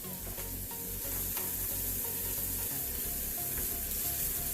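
Garlic sizzling in oil in a frying pan, a steady crackling hiss with faint ticks and pops throughout, close and with no talking.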